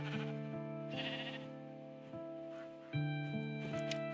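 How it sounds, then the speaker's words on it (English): Repeated sheep bleats from a Minecraft game, several short calls spread over a few seconds, set over steady harmonic game music. "Sheep! I got sheep to herd."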